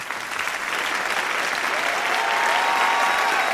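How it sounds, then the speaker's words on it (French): Sustained applause from a crowd, steady and dense clapping throughout, loud and close, with a faint tone rising late. "appuyer sur la touche F de votre clavier pour se quitter sous une salve d'applaudissements"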